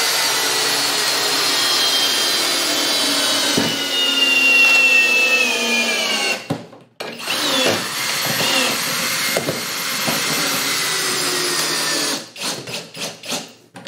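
Milwaukee Fuel and Kobalt XTR hammer drills drive lag bolts into wood, two loud whirring motors grinding together for several seconds, then a brief stop, more driving, and a series of short bursts and clacks near the end.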